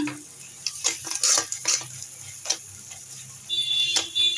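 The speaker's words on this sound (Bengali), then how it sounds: "তো আমি এভাবে এখন কষিয়ে নেব মশলাটাকে" Spice paste for a pangas fish curry being sautéed and stirred in a pan, with scattered scrapes and clinks of a utensil against the metal over a soft sizzle, close and intermittent.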